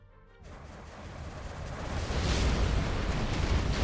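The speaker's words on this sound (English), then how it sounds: "we do have another scud firing" A Scud missile launch in a strategy video game: a broad rocket roar that swells from near silence over the first two seconds, then holds loud and steady to the end.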